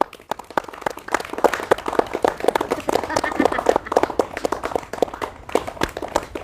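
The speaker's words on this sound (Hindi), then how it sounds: "संभाल के बेटा, संभाल के। ताली मारो।" Children clapping along at a street magician's performance, scattered sharp claps in an irregular rhythm, close, with voices talking over them.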